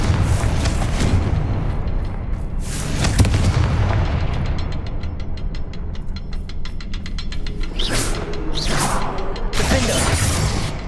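Confringo spell blasts in the Hogwarts Legacy game fire as a steady run of loud, booming explosions and whooshing bursts, with a rapid mechanical crackle in the middle and more heavy impacts toward the end.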